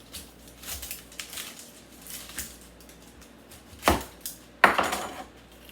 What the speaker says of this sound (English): let's cut the onion up first